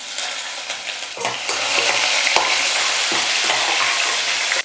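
Finely chopped green chilies sauté in hot oil for upma made from leftover idli, a loud steady sizzle with scraping stirs at intervals and no voices.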